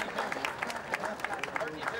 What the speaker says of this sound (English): you need to give them a huge round of applause for all 16 competitors contesting